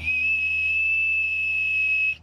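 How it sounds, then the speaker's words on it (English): A small Oscar Mayer toy whistle gives one steady, loud, shrill tone close up, held for about two seconds before stopping. "As well as a little Oscar Mayer whistle, I guess."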